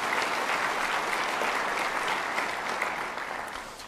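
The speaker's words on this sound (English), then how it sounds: "give yourself a round of applause" An audience at a city mayor's State of the City address applauds, a dense, even roar of clapping that stays full and steady before easing slightly toward the end.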